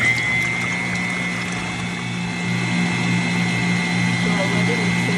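An electric mixer on high speed beats eggs for a cake, a loud continuous motor whine with a steady buzzing hum that holds at even strength from start to finish.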